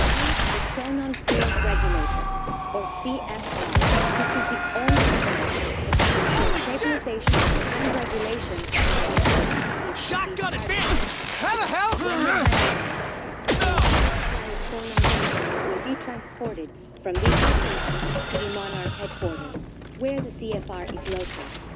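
Gunfire in the video game Quantum Break: dense bursts of automatic fire and single heavy shots, close and loud, with booms and impacts and game voices mixed in throughout.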